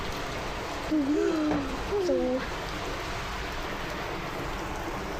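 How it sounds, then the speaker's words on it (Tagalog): Steady rain falls during a power outage, a constant broadband hiss that runs throughout, with a person briefly talking over it. "guys, may ulan."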